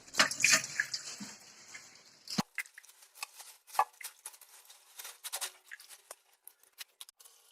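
Stored water is poured into a home aquarium in a steady, close rush lasting about two seconds before stopping abruptly, followed by scattered light clicks and small splashes.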